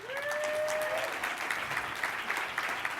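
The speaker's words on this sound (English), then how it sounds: "Give a round of applause to Jeremy." A seated audience applauds for Jeremy at a digital marketing conference, even continuous clapping at moderate distance, with a brief whistle or voice tone rising over the start.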